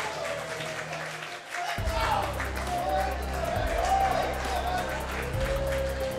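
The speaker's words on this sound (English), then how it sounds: "Listen to this 10 Planet HQ crowd." Spectators at a 10th Planet HQ grappling team duel cheer and clap after a submission win, a steady crowd roar with whoops that swells and continues beneath a commentator's voice.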